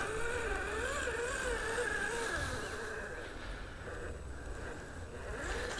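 The stock electric motor of a Traxxas-style SCX10 III Bronco RC crawler whines steadily under load as it crawls through a yard, with the pitch wavering as the strain changes and some scraping underneath.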